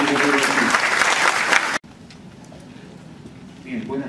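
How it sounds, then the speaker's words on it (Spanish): Warm audience applause at an educational innovators' gathering, greeting a speaker as he comes forward. Dense, loud clapping fills the first half and then cuts off abruptly, leaving a quiet room with faint movement. "Con un cariñoso aplauso lo vamos a recibir"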